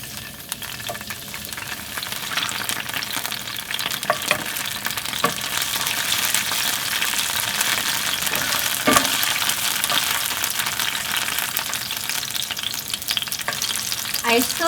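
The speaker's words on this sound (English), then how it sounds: "I stir fried 1 minute" Garlic scapes stir-frying in cooking oil in a pan, a steady close sizzle running the whole time with occasional scraping knocks of stirring.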